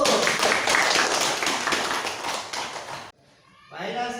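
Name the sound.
students applauding a discussion group in class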